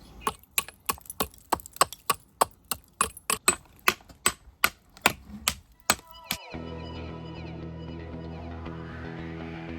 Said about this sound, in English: So I just started chiseling or taking the mortar out